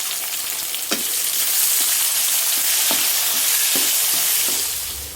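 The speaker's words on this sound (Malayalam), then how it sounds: "ഇഞ്ചിയും വെളുത്തുള്ളിയൊക്കെ നല്ലപോലെ ഒന്ന് ഫ്രൈ ആയിട്ട് നമുക്ക് നമ്മുടെ ചെറിയുള്ളി, സവാള ഇട്ട് കൊടുക്കാം" Ginger, garlic, shallots and onion frying in oil in a pan, a loud continuous close sizzle with occasional sharp scrape and stir clicks, no voices.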